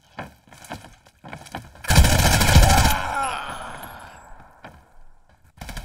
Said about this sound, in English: Just got killed by a pistol.